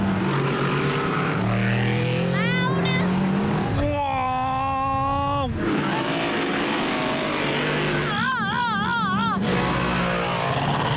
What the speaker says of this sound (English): You can feel the thunder of the cars around the track.